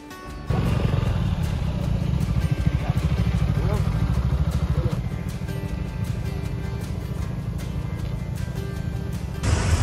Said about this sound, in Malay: bunyi angin dengan enjin.